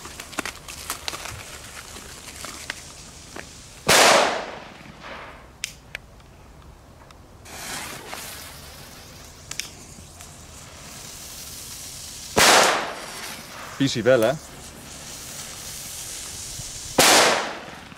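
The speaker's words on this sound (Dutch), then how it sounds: "Ja, leuke knallers." Firecrackers bought in Belgium go off outdoors in several sharp, loud bangs spread out over time, with one crackling burst among them, separated by quieter stretches with faint background sounds and a brief spoken remark.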